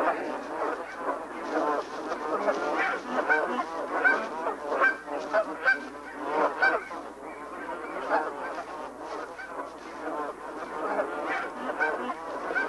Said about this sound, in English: The last of the geese are entering the pen.